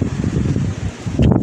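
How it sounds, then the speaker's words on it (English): Strong wind roars and buffets the microphone in loud gusts, with a brief lull before it surges again. "Oh, it's really windy."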